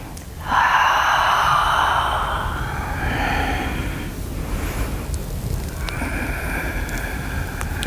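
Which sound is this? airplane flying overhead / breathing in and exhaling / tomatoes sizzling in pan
breathing in and exhaling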